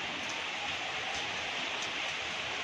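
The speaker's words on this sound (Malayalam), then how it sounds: "മഴ ഇങ്ങനെ കണ്ടു നിൽക്കാൻ തന്നെ ഒരു പ്രത്യേക ഭംഗിയാണ്" Steady rain falls on a windy rainy day, a dense, even hiss that holds without a break from start to finish, with no voices.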